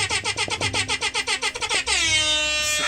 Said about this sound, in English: got an air horn coming in